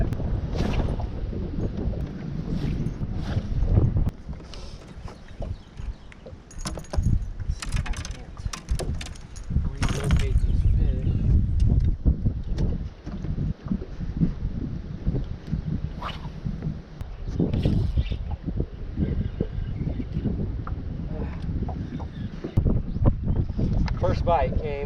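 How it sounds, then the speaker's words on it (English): Strong wind on Table Rock Lake buffets the microphone with a constant low roar and gusty rumbles throughout, while a person talks underneath. "It's a very windy day here."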